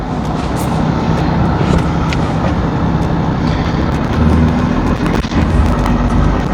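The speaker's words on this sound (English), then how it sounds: "we'll slowly drive forward up onto the pads" A Land Rover Defender in low gear creeps forward onto weighing pads, a steady loud rumble of engine and tyres with occasional knocks and thumps throughout, and no voices.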